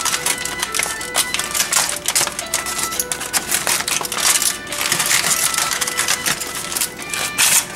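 Aluminum foil being unwrapped from giant roasted sweet potatoes: steady, loud, close crinkling and crushing, dense and continuous with rapid crackles throughout.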